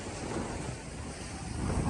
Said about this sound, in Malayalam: വെള്ളം വളരെ ശക്തിയായിട്ട് നമ്മുടെ മേത്തേക്ക് അടിക്കുന്നു